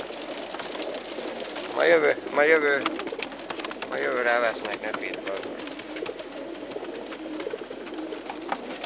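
Pigeons coo in a group, soft throaty rolls rising for a couple of seconds amid steady background noise, while someone speaks over them.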